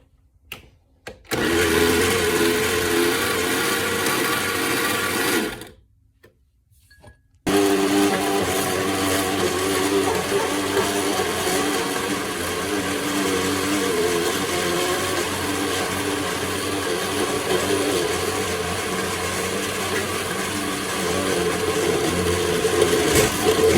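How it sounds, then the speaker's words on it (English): A kitchen blender runs loud and steady, blending a watermelon and lemon balm electrolyte drink, then stops briefly and starts again with a continuous motor whine. "Okay, I've been blending it for a little bit now"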